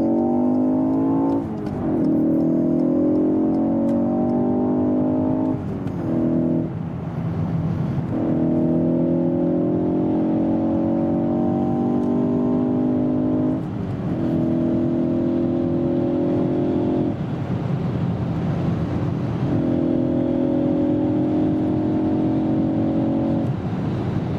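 A 2020 Ford Focus ST with a 2.3-litre EcoBoost engine accelerates hard from inside the cabin, its engine note climbing steadily through four or five gears with short dips at each shift, loud and continuous, with no talking.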